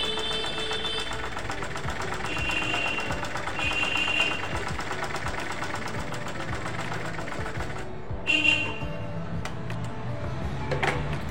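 A sewing machine stitches fabric with long, widely spaced stitches. It runs as a steady, close mechanical whir with a faint rapid ticking, and a short louder burst comes near the end.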